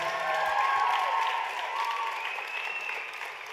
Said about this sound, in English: Give our teens another big round of applause.